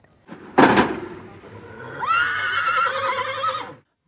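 At a Kurdish horse-riding and spear-play gathering, a sharp thud comes first, then after a pause a horse lets out a loud, long whinny that wavers before cutting off.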